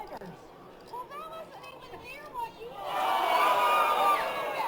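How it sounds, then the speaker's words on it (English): Crowd at a poker final table during a national championship, reacting with a swell of excited murmuring and cheering in the second half, preceded by quieter chatter. "We can just hear the crowd reacting."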